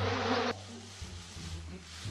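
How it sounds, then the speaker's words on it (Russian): A housefly buzzes close by in a steady, continuous drone that stays loud and fairly even, with no voices over it. "Его всегда преследуют мухи"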